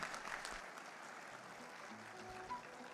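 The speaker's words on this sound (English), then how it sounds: "Big round of applause for him." Audience members at a conference session clap for a departing speaker, a faint, distant, fairly thin applause that continues evenly under a quiet room.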